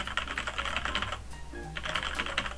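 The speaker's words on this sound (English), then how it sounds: "Just gonna spam my keyboard to make sure levels are good." A computer keyboard is hammered in rapid bursts of dense clicking, a pause for about half a second, then another fast flurry of keystrokes, fairly quiet and with no voices.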